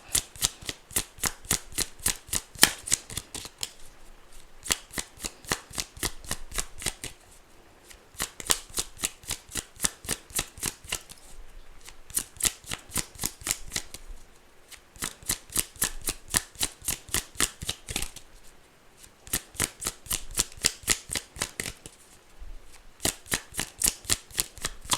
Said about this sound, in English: It's like I try and shuffle it more over the table, and it still just will fall on the floor.